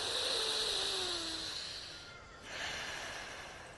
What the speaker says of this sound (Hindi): कपाल भाति करिए। ये आपको कम से कम 2 मिनट और अधिक से अधिक 5 से 15 मिनट कर सकते हैं।